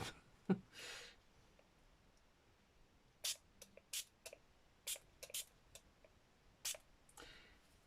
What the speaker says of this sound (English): if I spray it, let's do it